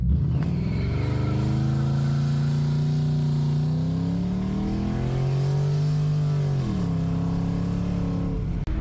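A 2012 Ford Fusion accelerates hard in a brief peel-out, its engine note rising steadily and loudly. The pitch dips once with a shift near the end and then climbs again, close by and with no talking.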